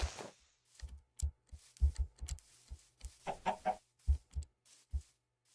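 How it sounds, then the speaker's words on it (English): Chickens in the CraftMine video game cluck in short, separate bursts at irregular intervals, with clusters of calls and quiet gaps between them and no speech. "Only more chickens."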